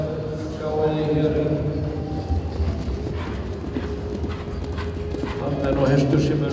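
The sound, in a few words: competition horse hooves clip-clopping in tölt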